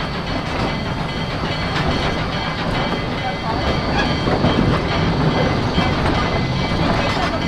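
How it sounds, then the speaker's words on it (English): D&RGW 491 steam train at the Colorado Railroad Museum, with a loud, dense rumble of rolling cars, clickety-clack and hiss as it runs steadily, heard from on board. "please stay seated until the train comes to a complete stop"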